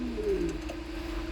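A single soft racing pigeon coo, fairly quiet, over a low steady background hum.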